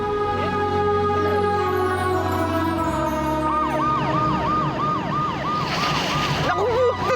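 A police car siren wails in a drama scene, its rising and falling tone looping loudly and close over dense music and commotion, growing more intense toward the end.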